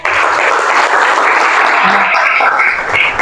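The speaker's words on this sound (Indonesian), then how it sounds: "tepuk tangan dulu." Sustained applause from a classroom group during a student presentation, steady clapping filling the whole stretch with no voices over it.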